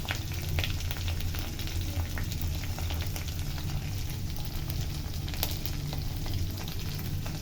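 Chicken sautés with spices in a hot pan, giving a dense, continuous sizzle at a steady level with scattered tiny crackles and no voices.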